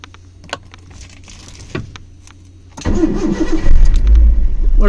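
A petrol car converted to run on LPG starts at the first attempt: a few clicks and a short crank, then the engine catches and settles into a steady, loud idle close by.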